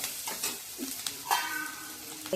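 Onion being sautéed and stirred in a pan, a soft steady sizzle broken by a few scraping stirs of the spoon, close by with no voices.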